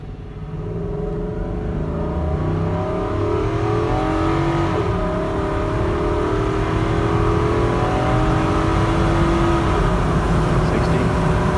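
Infiniti QX80 SUV accelerating hard from a standstill up a 15-degree grade, its engine a steady, loud, rising drone with harmonic whine that holds for the whole stretch, with no pauses.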